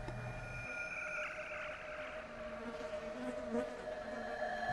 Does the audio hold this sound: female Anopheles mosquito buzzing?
yes